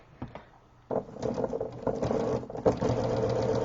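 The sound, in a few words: sewing machine stitching a quarter-inch seam in fabric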